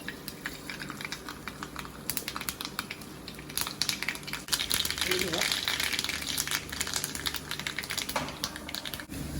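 Mustard seeds splutter and crackle in hot oil in a Kerala kitchen, a dense rapid patter of tiny pops running steadily throughout at moderate loudness.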